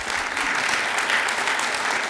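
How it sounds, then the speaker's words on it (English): A room of attendees at a town council meeting claps together, a steady, even patter of applause that stays at one level from start to finish with no voices over it. "Let's give them another round of applause."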